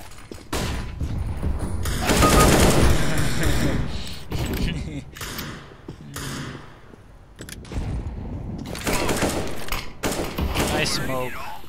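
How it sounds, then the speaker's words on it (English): In Counter-Strike: Global Offensive, a flashbang goes off amid rapid bursts of gunfire, the shooting coming in dense clusters separated by short lulls, with voices talking over the action. "Flashbang!"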